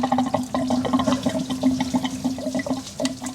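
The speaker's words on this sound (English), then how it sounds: "It's gonna leak all the coolant everywhere." Coolant spilling from a removed plastic coolant elbow on a Buick 3.8L engine, a steady trickling, splashing pour heard up close with small drips and clatters throughout.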